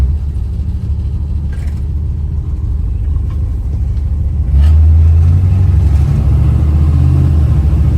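A 1974 Dodge Dart engine rumbles steadily, then surges louder and deeper around the midpoint as it accelerates from first to second to third gear, the low drone holding strong to the end.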